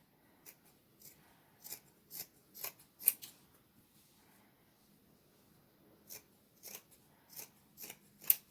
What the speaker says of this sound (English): we're just going to take and cut off just below the heel on both socks.